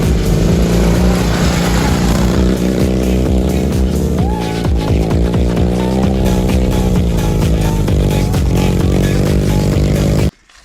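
A Dnepr MT 11 motorcycle on cross-country tyres labours uphill through swampy forest ground, its engine loud and close with a droning note that rises and wavers, then cuts off abruptly at the end.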